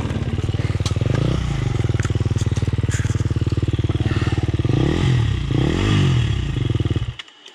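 A 2020 KTM 300xc TPI dirt bike engine drones loud and close at a steady high pitch while riding, briefly wavering and surging, then cutting off abruptly near the end.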